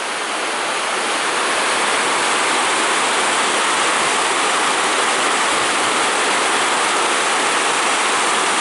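A river in the west of Ireland near Galway rushes past, a loud, constant wash of flowing water close by with no pauses or voices.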